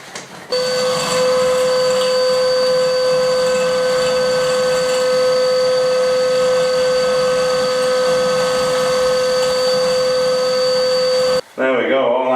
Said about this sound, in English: And then we can now vacuum